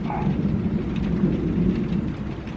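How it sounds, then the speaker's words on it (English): Heavy rain drums steadily and loudly on a workshop roof, with a low rumble of thunder running underneath throughout. "if it starts pouring down and be that loud on the roof"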